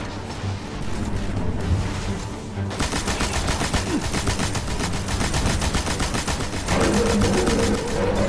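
Rapid sustained automatic gunfire aimed at a boss in the video game Destiny, a dense continuous rattle that runs loud and near for several seconds with game sounds beneath.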